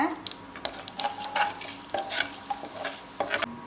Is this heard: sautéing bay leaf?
yes